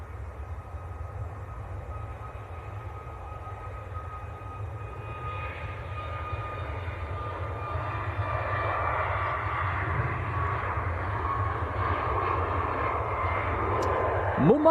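A Ryanair airliner bound for Lisbon flies past at Manchester Airport, a steady engine roar with a faint whine holding for the whole stretch and swelling slightly near the end, while a person talks over it.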